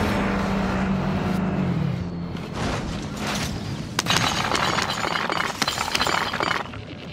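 A vehicle driven in Call of Duty Warzone: a steady engine drone with a falling pitch, then a run of crunching, shattering glass and clattering impacts as it bumps and crashes along, loud and close.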